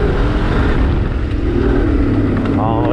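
Honda Transalp motorcycle accelerating as the rider opens the throttle on a trail, a loud continuous engine roar rising in pitch toward the end, with a voice talking over it.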